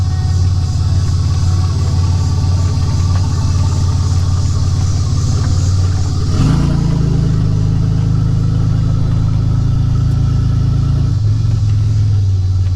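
A Nissan Z31 300ZX Turbo engine idles loud and close, its exhaust a steady low rumble that rises sharply in revs about halfway through, then holds a higher drone before settling back down near the end.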